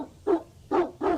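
A dog in a video game barks three times in quick succession, sharp mid-pitched woofs close and clear against a quiet background.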